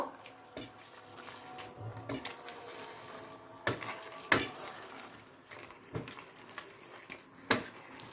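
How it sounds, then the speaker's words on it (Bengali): A spoon stirs a mixed vegetable dish in a pot with green chillies and a little water, giving faint, irregular clinks and scrapes against the pot over a quiet kitchen background. "মিশিয়ে নেব।"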